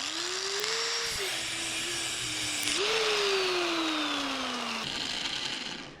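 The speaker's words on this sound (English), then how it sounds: "make sure you use that shield if you do use a angle grinder" An angle grinder cutting a threaded quick shifter rod locked with two nuts for a Triumph Street Triple RS, a loud continuous whine that sags under load and rises again as the disc bites, close and unbroken.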